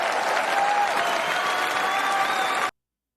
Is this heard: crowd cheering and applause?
yes